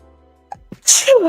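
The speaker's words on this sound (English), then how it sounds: "sorry, I just sneezed" A woman sneezes once, close and loud, with a short sharp intake of breath just before and a noisy burst that tails off, in an otherwise quiet room.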